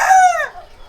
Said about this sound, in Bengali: এই যে মোরগ ডাকতেছে